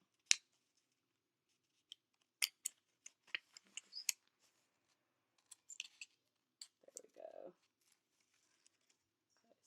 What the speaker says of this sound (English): the direction that the scissors cut in, you want to turn it.